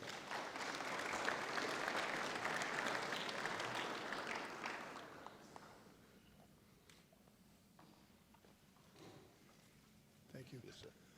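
Audience at a high school football media day breaks into applause that fades after about five seconds, leaving quiet room noise with faint voices and a brief stir near the end.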